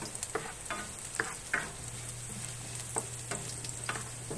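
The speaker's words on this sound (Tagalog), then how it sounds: "ginigisa ko na yung bawang" Garlic sautés in a pan for beef and bitter gourd, a soft steady sizzle broken by repeated scraping stirs and utensil taps, without voices.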